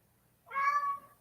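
A pet cat named Trouble gives a single drawn-out meow, close and clear, rising out of near silence and fading after about a second.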